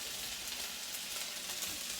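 Rice starting to fry in a pan for Mexican rice, giving a steady, even sizzle with a fine crackling hiss that holds at constant volume close by, with no voices.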